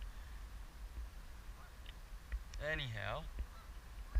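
Geese honk near icy water where a kayak would get stuck, one clear drawn-out honking call rising midway over faint outdoor ambience, with a brief spoken word just before.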